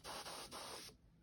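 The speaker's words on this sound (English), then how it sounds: "it looks like I'm running out of my quick dry spray" A nearly empty can of quick dry nail polish spray sputters in three rapid hissing bursts, close and even, before cutting off into quiet.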